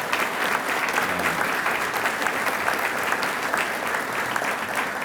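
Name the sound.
audience applause for the Smith family at a breakfast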